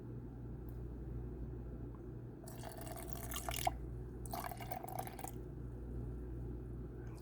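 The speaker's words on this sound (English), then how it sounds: "now we're going to add 90 grams of cold filtered water" Cold filtered water poured into a sourdough starter jar in two short splashing bursts, close and fairly quiet over a steady low hum.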